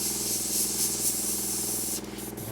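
An airbrush with a 0.3 needle spraying thick Mission Model polyurethane paint, a loud continuous close hiss over a low steady compressor hum, cutting off near the end and leaving only the motor running.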